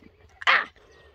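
A Jack Russell terrier gives a single short, loud bark close by on an outdoor walk across grass at sunset, with faint background noise before and after.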